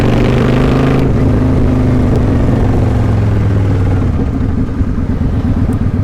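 A motorcycle engine revs loudly and steadily as the rider pulls the clutch and shifts down a gear, the pitch dropping at the shift and then holding a rough, close drone.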